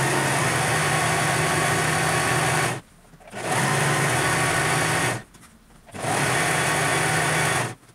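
A sewing machine runs loud and close while finishing a mandarin-style collar, in three sustained bursts of fast, even stitching separated by two short pauses.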